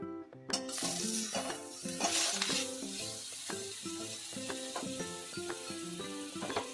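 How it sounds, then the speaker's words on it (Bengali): Butter going into a little hot oil in a pan for palak paneer sizzles with a continuous bright hiss, joined by occasional utensil clinks against a steady background tune; nobody talks. "তো এবারে আমি অল্প একটু তেল দিয়েছি, তার সঙ্গে আমি একটু বাটার দেবো"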